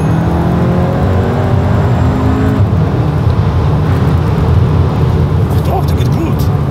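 Engine noise from a 310 PS Cupra Formentor accelerating, a loud rising drone that thins out midway into road and wind rush, while people talk over it inside the cabin.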